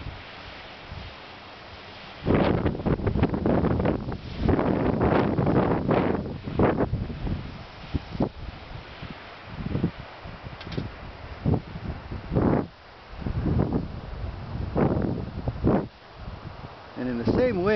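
Gusty Missouri wind buffets the microphone around Chinese wind turbines, rising and falling in loud rushing bursts while someone talks over it.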